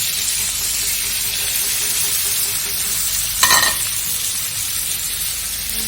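Long beans and kailan stir-fry in a hot pan with a steady, close sizzle and one brief scraping stir partway through, with no voices.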